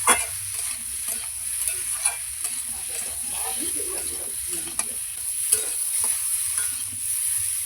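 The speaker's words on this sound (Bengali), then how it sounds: "আমার আলু পটল ভালোভাবে করে কষানো হয়ে গিয়েছে" Potatoes and pointed gourd sautéing in a pan make a soft sizzle broken by repeated scraping stirs and clinks of a utensil, fairly close and without speech.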